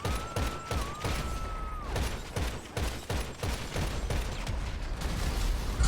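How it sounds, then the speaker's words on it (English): A marksman rifle fires repeatedly in GTA Online, with a rapid series of sharp, evenly spaced shots amid other game effects and a brief rising and falling whine near the start. "You're going to see I use the marksman and snipe the sticky bomb out of their hand"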